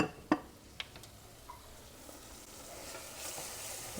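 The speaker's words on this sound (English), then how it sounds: "Give that a stir. This is going to make a roux." Flour stirred into hot fat in a pan to make a roux: a soft steady sizzle with a couple of sharp utensil clicks against the pan near the start, close and fairly quiet.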